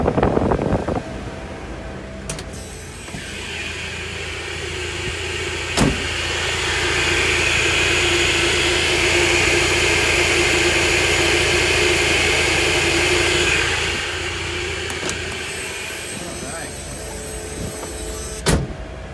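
Climate control fan of a 1978 Volkswagen Bus blowing at full blast, a steady loud whooshing roar that swells in the middle and eases off, bracketed by a few clicks of the controls, with no talking.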